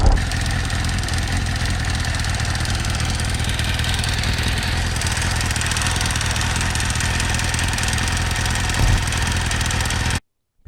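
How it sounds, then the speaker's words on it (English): A Kawasaki ZX6R Ninja motorcycle idles close by, a steady, even engine drone with a faint clicking from a coil pack or HT lead fault. It holds for about ten seconds and then cuts off abruptly. "get rid of this annoying clicking sound you can hear."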